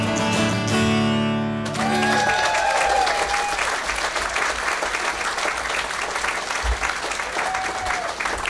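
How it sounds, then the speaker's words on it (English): An audience applauds after a comic song. The last sustained musical notes cut off and dense, loud clapping takes over and continues steadily. "I wish we had time for more applause."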